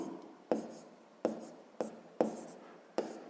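A pen writes a math step on paper in five short scratchy strokes at a steady pace, each starting with a tap. The sound is close and quiet, with no talking.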